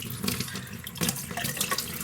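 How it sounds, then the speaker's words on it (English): Collected rainwater gushes steadily from a tap to rinse out a muslin filter bag from a rain harvesting system, a close, continuous splashing stream into a sink. "So we're gonna rinse out our bag using actual rainwater now."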